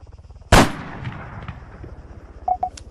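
A single loud, sharp sniper rifle shot cracks out in the video game Arma 3, its echo trailing off over a low rhythmic background hum, followed by a couple of faint beeps and clicks.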